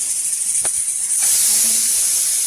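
A pressure cooker letting off steam in a home kitchen, a loud continuous hiss that swells partway through and carries on steadily with no voices.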